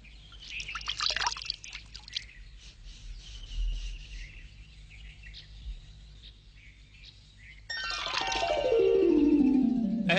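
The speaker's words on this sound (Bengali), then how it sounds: "দয়া করে সাবান দিয়ে হাত ধুয়ে নিন" Tap water runs and splashes during handwashing with soap, faint trickling and dribbling at first, then a louder steady stream gushing near the end.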